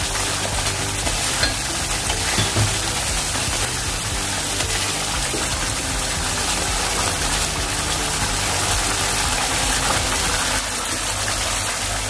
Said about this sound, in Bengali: এর মধ্যে এবার একটু জল দেব।